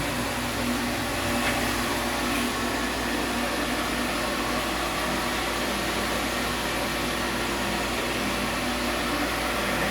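A vacuum cleaner runs steadily, a constant loud whooshing motor drone that holds level for the whole stretch with no voices.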